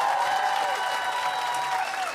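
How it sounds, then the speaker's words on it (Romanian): Audience applause at a stand-up comedy show, a steady, dense wash of clapping from the crowd filling the room, fairly loud and continuous with a faint voice tone over it. "vă rog încă o dată aplauze"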